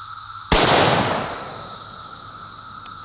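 A single sharp gunshot from a cheap .308 bolt-action sniper-style rifle, loud and close, with a short decaying echo tail fading over about two seconds.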